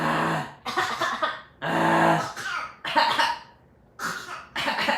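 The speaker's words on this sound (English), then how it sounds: "She'll fake cough too" A small child fake coughs in short, forced bursts, about five separate coughs with brief pauses between them, close and fairly clear.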